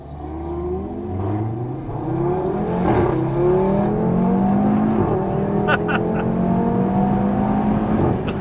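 A 2016 Audi TT RS engine accelerates hard, heard through a slightly open window from inside the car, its loud drone climbing steadily in pitch through several gear changes, with some talk underneath.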